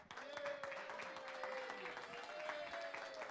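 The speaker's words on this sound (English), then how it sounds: "So give her a round of applause." A crowd applauds a longtime youth sports coordinator at a City of Carson, California parks and recreation commission meeting, with steady, dense clapping that holds at an even level throughout, plus a faint sustained ringing tone beneath.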